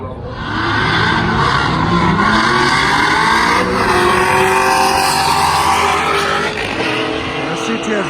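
A modified Cadillac CTS-V wagon drag racing, its engine roaring loud and continuous at full throttle with rising gear pulls and possible tire noise, close and sustained throughout.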